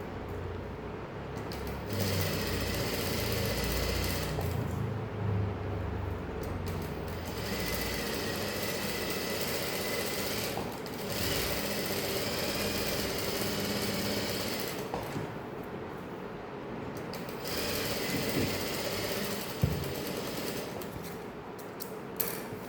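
Sewing machine stitching around the folded edge of a saree, a steady continuous mechanical whirr running almost throughout, with a few brief pauses where the stitching stops and restarts.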